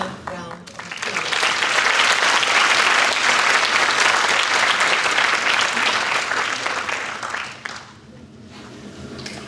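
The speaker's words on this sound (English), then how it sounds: "Please join with me in giving her another round of applause" An audience applauds after an Arangetram classical dance performance, a loud, dense wave of clapping that swells quickly, holds for several seconds, then thins out near the end.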